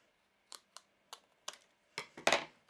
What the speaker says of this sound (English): I can really easily cut through it with my scissors